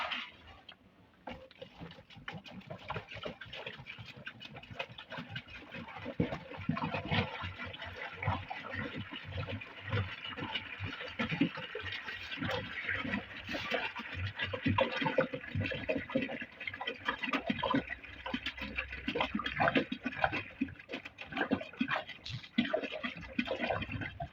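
Twenty liters of water are poured into a silage mix of chopped forage, making a steady rushing, splashing flow for over twenty seconds at close range, with no talk.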